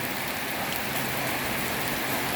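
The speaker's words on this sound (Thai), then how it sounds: "ขอเล่นน้ำฝนก่อนแป๊บหนึ่งนะครับ" Heavy rain pours down outdoors in a dense, even hiss that stays loud and constant throughout with no voices.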